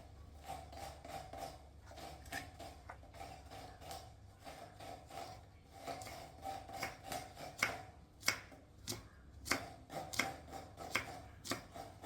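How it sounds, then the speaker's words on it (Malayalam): Beans being chopped for payar thoran in a Kerala kitchen, a quiet, uneven series of knife taps on a board that grows quicker and more distinct toward the end, close but faint, with no talking. "പയറ് തോരൻ വെക്കാൻ അരിവാണേ"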